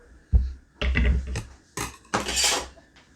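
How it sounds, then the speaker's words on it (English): A big knife cutting a fresh lime in half: a few close, sharp knocks and scrapes of the blade against a board, arriving in separate bursts with short pauses. "So just cut her right in half."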